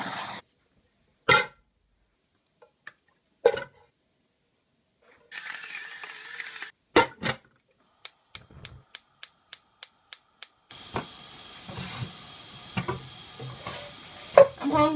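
Food sizzles in a pan on a stove, with bursts of frying and a run of quick metallic clicks and taps from stirring. Louder continuous sizzling comes in toward the end.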